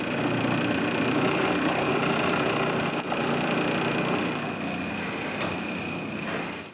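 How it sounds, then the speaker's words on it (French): A drill press bores pilot holes in wood for screws on a stair gate project, giving a steady loud motor whine with drilling noise throughout, close by and without talk. "À la perceuse à colonne, je perce les trous pilotes pour les vis."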